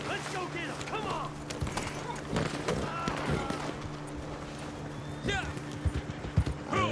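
Horse hooves clip-clop repeatedly in a video game, a steady clatter of steps under ongoing game sounds while people talk over it.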